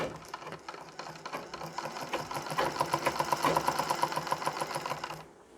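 A sewing machine stitches Nauvari saree pieces together in a rapid, even mechanical chatter that runs close and loud for about five seconds before stopping.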